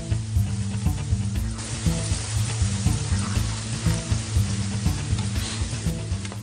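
Onion sizzling steadily in a hot pan, a loud continuous frying hiss with faint stirring scrapes and clinks, no talking.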